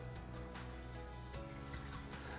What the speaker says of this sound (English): First thing into our mixer is always our water.